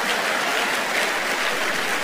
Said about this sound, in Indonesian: Tepuk tangan buat yang merokok ya.